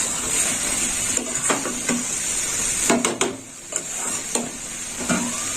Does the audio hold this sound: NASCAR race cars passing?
no